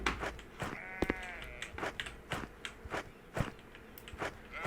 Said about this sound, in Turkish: bak keçiler var, koyunlar var